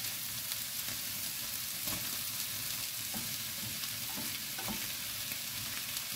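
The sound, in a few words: food frying in a pan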